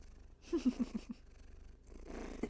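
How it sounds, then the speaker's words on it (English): A cat purrs up close in soft rhythmic rumbling bursts, pausing briefly before the purring resumes. "Get some purrs?"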